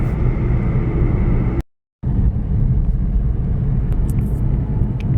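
Car cruising slowly along a highway, a steady loud engine and road rumble that cuts out briefly before resuming, with no talking.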